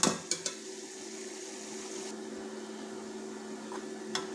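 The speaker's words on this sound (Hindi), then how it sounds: "इधर प्याज फ्राई हो रहा" Onions fry in a pan for a village-style aloo saag, giving a soft, steady sizzle with a few sharp utensil clinks at the start and near the end.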